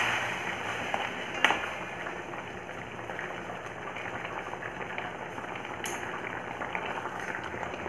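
Sugar syrup with parwal sweets bubbles in a pan over a gas flame, a soft, steady simmering hiss with faint pops and a couple of brief clinks, heard close and alone.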